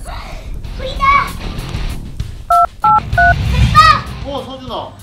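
Three beeping touch-tone telephone dialing tones from a toy phone in a children's fire-truck and crane toy play scene, steady and fairly loud, between a child's and an adult's voices.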